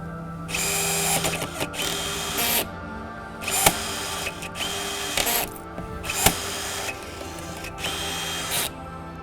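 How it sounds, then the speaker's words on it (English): A power drill tightens two screws on fiberglass rocker winglets fitted to a C7 Corvette, running in several short, loud whirring bursts close by, separated by brief pauses and small clicks. "Finally, I'm going to tighten my 2 screws since I'm done with the rivets."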